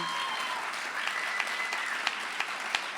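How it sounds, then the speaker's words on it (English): Audience applause at an awards ceremony, a steady, moderately distant wash of many hands clapping with a few sharper individual claps standing out near the end. "can we have a little round of applause again?"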